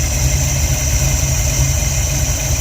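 A carbureted car engine idling steadily at close range, an even mechanical hum with a low throb.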